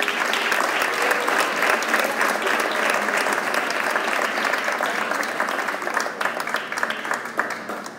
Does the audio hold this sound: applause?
yes